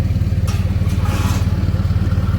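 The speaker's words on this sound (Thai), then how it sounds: "มันเป็นเครื่องรอบต่ ำมันเป็นเครื่อง4สูบที่อารมณ์เหมือน เครื่อง6สูบขนาดใหญ่" A four-cylinder A05C diesel engine in a six-wheel truck hauling a trailer runs at low revs with a steady, deep, throbbing drone that stays even throughout, fairly loud and close, with no voices over it.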